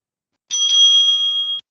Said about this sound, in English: The timekeeper will be ringing the bell twice.